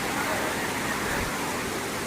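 Steady rushing roar of Kalu waterfall in Maharashtra, dense and constant with no breaks, fairly close.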